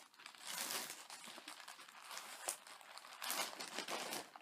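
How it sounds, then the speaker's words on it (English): Packaging crinkles and rustles close by in a steady, busy stream for several seconds, with a sharper crackling burst near the end; no voices. "There's going to be crinkling right now."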